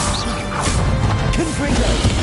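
A Confringo fire spell in Hogwarts Legacy bursts in a loud, crashing blast within a dense wash of game effects and rumble, close and continuous for a couple of seconds.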